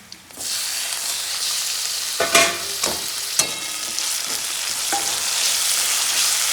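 Tomatoes hit hot oil with crushed green cardamom in a pan, setting off a steady loud sizzle broken by a few sharp clatters of stirring, and the frying stays strong throughout.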